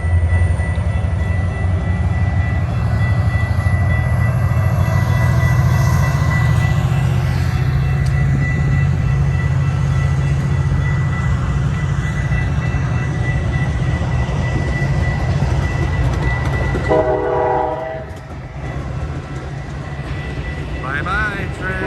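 A westbound Metra commuter train pulls out of the Elmwood Park station in a long, steady low rumble of rolling railcars, with a brief metallic ringing near the end as the sound drops off.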